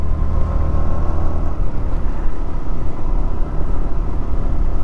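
Yamaha MT-15 V2 motorcycle running in sixth gear at around 60 on a road, giving a steady engine drone and whir under constant wind rush, close and unbroken.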